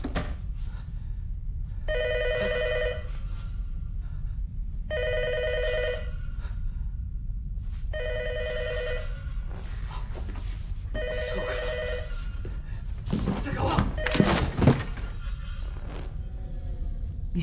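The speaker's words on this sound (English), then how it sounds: "You should have heard the phone." A telephone bell rings in repeated pairs of bursts, loud and close in the 1998 horror film Ringu, over a low hum, followed by a louder, noisier clatter.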